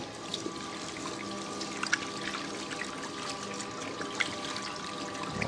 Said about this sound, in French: je vais de nouveau me rincer les mains.